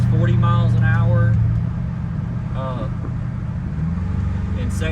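A Pontiac GTO runs at about 40 mph with a steady, low engine drone that stays under continuous talk. A brief tonal rise near the start could be a gear change.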